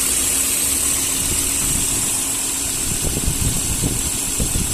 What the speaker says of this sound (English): It's 5-cylinder, non-naturally aspirated petrol car, which is brilliant.